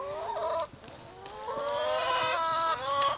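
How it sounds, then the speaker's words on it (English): A flock of nine chickens clucking and calling nearby, a run of rising and falling squawks and cackles from more than one bird, fairly loud. "We have 9 chickens now"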